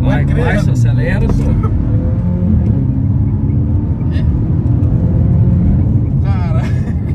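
A car engine revved hard, a steady low rumble with loud roaring bursts that swell and fall, heard up close while a person talks over it.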